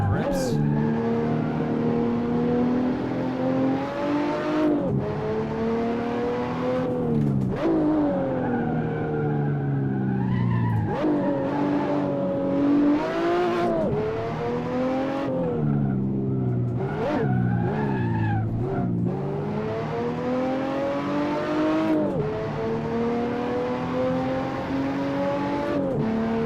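Race car engine in the driving sim Assetto Corsa, loud and continuous, revving up and down through gear changes with sharp rises and drops and brief tyre squeals on a final lap, filling the whole stretch.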